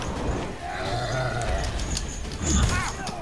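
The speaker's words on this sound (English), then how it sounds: "Sheep." Sheep bleat in the video game The Witcher 3: Blood and Wine, a few close bleats amid game ambience, with a player speaking over them.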